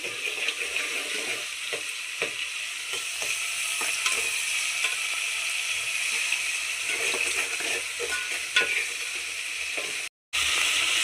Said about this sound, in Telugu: టమాటా కూడా మగ్గనిద్దాం. ఒక 2 నిమిషాలు ఆగండి. కొంచెం ఉప్పు కూడా వేసుకోండి, ఎందుకంటే టమాటా బేగా మగ్గుతుంది.